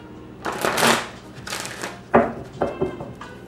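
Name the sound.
shuffling a deck of reading cards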